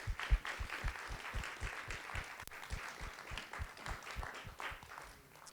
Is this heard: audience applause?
yes